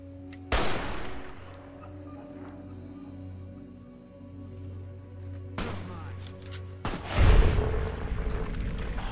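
Gunfire in the game Fallout: New Vegas: a few sharp, loud shots spaced seconds apart, each with a ringing tail, over a low steady hum of game ambience.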